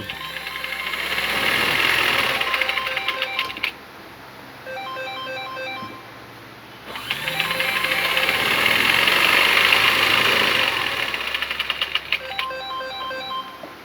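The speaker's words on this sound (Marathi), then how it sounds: "मशीन खडखाड खडखाड वाजते हिला तेल घेऊन तेल घेऊन यावं लागेल" A sewing machine in need of oil rattles and clatters steadily in two long bursts while hemming a sari, with a short quieter pause between them and a repeating mechanical tapping throughout.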